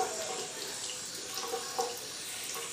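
Water runs from a sink tap over hands being wetted for handwashing, a soft steady splash with small gurgles, fairly quiet.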